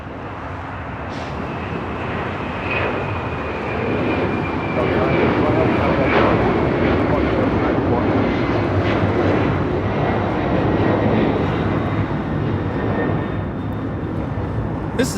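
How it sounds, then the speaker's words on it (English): A Delta Airlines Boeing 767-300ER roars through its takeoff roll bound for JFK, a loud, steady jet rumble that swells and holds across the whole stretch, with a faint high engine whine gliding overhead and occasional voices underneath. "This is Delta Airlines 951 taking off to JFK on a 767-300ER"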